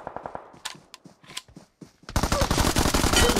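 Gunfire in a mobile shooting game: a run of quick, sharp single shots, then a loud, dense automatic burst up close that carries on to the end.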